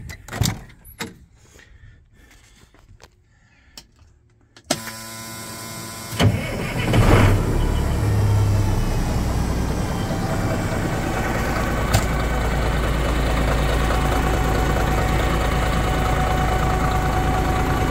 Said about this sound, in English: We're going to start the truck up and let it build up air pressure.